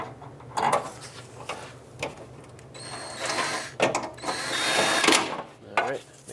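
Short bursts of a power drill driving tailgate window regulator mounting bolts on a Toyota 4Runner, brief whirring runs mixed with clunks and handling noise, close by with some speech in between.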